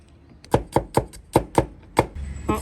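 Garlic being chopped with a kitchen knife on a board: a quick, steady run of about seven sharp thuds, close up, with a short pause before the last strokes.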